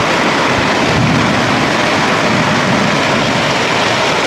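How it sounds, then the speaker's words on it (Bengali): Heavy rain roars steadily and loudly, a dense unbroken downpour close by with no voices. "মুসুল ধারায় বৃষ্টি নেমে পড়লো প্রচণ্ড বৃষ্টি হচ্ছে আমাদের এখানে"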